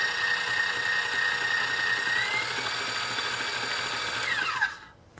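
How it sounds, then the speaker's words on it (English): An electric mixer beats cupcake batter containing baking powder and baking soda, giving a loud, steady motorized whine that runs continuously, then winds down and cuts off near the end, with no voices. "we're gonna go ahead and start mixing this"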